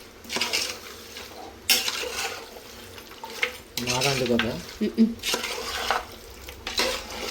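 Mutton being stirred and fried in a pot over a high flame, with a spoon scraping and clanking against the metal and a soft sizzle beneath, in irregular bursts; a voice speaks briefly.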